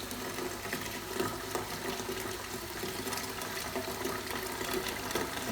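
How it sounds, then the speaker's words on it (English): Pepsi Max runs from a Britvic Cool Low drinks dispenser during an equipment restart, a steady, even rushing stream of liquid flowing without pause at moderate volume. "So now all we need to do is just start pouring Pepsi Max."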